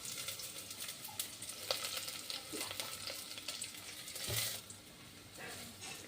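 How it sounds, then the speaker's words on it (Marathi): Finely chopped onion sautéing in oil in a pan for a Marathi phodshi bhaji, a soft continuous sizzle with occasional scrapes and stirring clinks of a spoon. "त्याच्यावर आपण कांदा टाकायचा बारीक चिरलेला आणि चांगला कांदा लालसर होईपर्यंत आपल्याला आता परतून घ्यायचा आहे"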